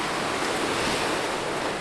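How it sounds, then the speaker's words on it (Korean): Sea waves crash without pause on the Korean coast, a dense, continuous roar of surf mixed with wind, loud and close. "파도는 쉼없이 몰아친다"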